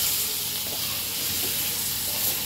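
Curry masala sautés on low heat in a pan, producing a dense, constant close sizzle and hiss with faint stirring underneath and no other sounds.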